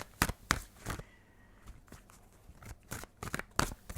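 A tarot card deck is shuffled by hand, producing a run of quick, close papery snaps and crinkly rustles in an uneven rhythm, with no one speaking.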